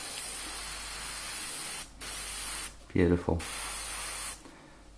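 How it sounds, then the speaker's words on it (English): A double-action airbrush sprays paint onto a model in short hissing bursts separated by pauses. A brief voice speaks mid-clip between sprays. "Spraying the paint out with no problems whatsoever."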